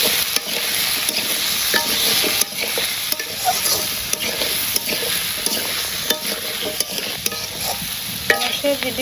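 Vegetables sizzle in oil in a pan, with a continuous close frying hiss and occasional scrapes and clicks as they are stirred. No one speaks.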